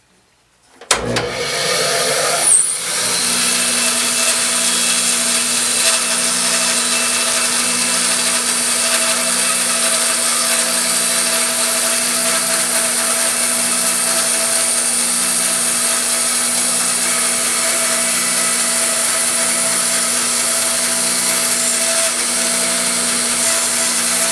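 Saw blade steadily cutting wood for wedge stock, a loud continuous whine and buzz after the machine starts up, holding an even tone throughout with no talking.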